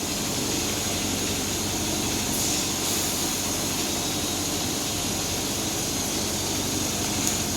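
An electric motor in a home-care ICU bed hums steadily as the bed lowers, a continuous, fairly loud drone with a faint high whine above it, running without pause and without talk.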